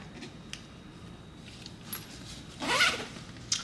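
Zipper on the pocket of a Tumi Alpha 3 Continental Dual Access carry-on, a short quiet pull with a couple of faint clicks before it.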